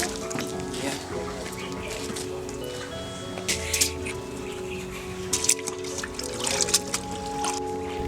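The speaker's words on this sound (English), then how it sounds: "directed to dip my feet in medicated water" Gumboots dip into a medicated footbath at a pig and poultry farm entrance, giving soft, intermittent watery splashes and drips over a steady mechanical hum, with faint voices in the background.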